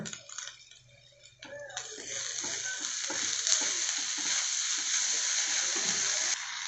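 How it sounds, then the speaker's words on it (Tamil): Moringa leaves with chili powder sautéing in a pan, a steady bright sizzle that starts after a short quieter stir and continues evenly at close range with no talking. "மிளகாத்தூள் கொஞ்சம் முருங்கீரை போட்டு அதையும் வதக்கிக்கோங்க"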